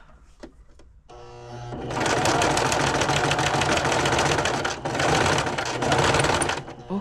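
A sewing machine runs steadily, shortening straps on a garment that mixes fraying silk with knitted fabric, stitching at a rapid, loud mechanical chatter after a brief quiet start, with one short pause before resuming.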